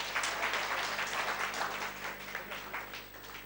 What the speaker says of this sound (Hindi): इसका संतोष के लिए भी जोरदार तालियां हो जाए